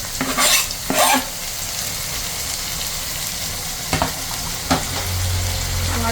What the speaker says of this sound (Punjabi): ਪਿਆਜ਼ ਲਾਈਟ ਬ੍ਰਾਊਨ ਕਰਨ ਤੋਂ ਬਾਅਦ ਆਪਾਂ ਐਡ ਕਰਾਂਗੇ ਜੀ ਟਮਾਟਰ